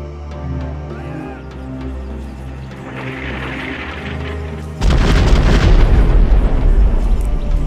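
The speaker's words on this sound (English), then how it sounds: "Airstrike confirmed. Okay, let's get small. The airstrike is inbound." Airstrike explosions in the jungle-warfare shooter Marine Sharpshooter 2 arrive as a loud, sustained roar of deep booming blasts that erupts halfway through and keeps rumbling to the end, preceded by lower-level game ambience.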